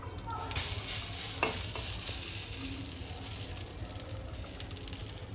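Dabeli buns stuffed with filling fry in oil on a pan, a constant close sizzle and hiss with a few faint clinks.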